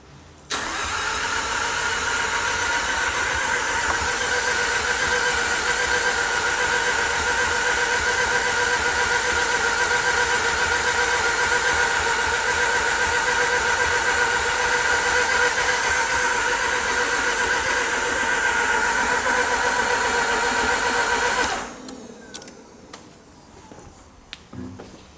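A freshly rebuilt rotary engine in a JDM car fires up and runs steadily for about twenty seconds, a loud, even, buzzy idle with strong harmonics, then cuts out abruptly, leaving faint clicks and shop noise.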